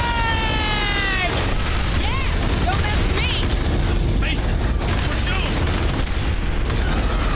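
Gunfire rattles continuously in Aliens: Dark Descent, a dense, loud barrage of booming bursts under chirping electronic tones, with talk heard over the shooting.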